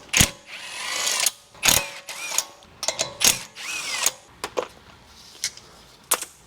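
Power tool driving a bolt back in while reinstalling a wheel on an '03 Toyota 4Runner during brake pad and rotor work, heard as a string of short, sharp whirring bursts and clicks, close and fairly quiet, with no talking.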